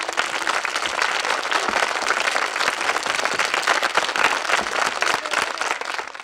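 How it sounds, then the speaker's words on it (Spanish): A studio audience gives a theatre company loud, continuous applause on a 1981 Spanish TV show, a thick, even wall of clapping from many hands that holds steady throughout. "A todos ellos va este fuerte aplauso."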